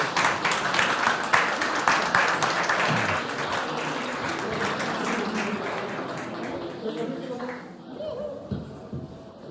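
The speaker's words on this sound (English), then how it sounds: "round of applause to the organizing team" Audience applause for the organizing team at a sommelier competition event fills the hall, dense clapping that stays loud throughout and gradually thins toward the end.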